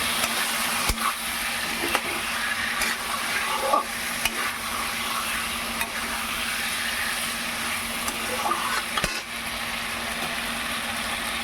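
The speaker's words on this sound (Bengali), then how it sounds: "এখন আমি যেই ছড়াটা সিদ্ধ করেছিলাম সেই সিদ্ধ বড়াটা এর মধ্যে দিয়ে এটাকে আবার নাড়াচাড়া করব" Boiled fritters are stirred into a fish curry with taro in a pan, a steady sizzle under repeated scraping strokes of a utensil against the pan, close and continuous.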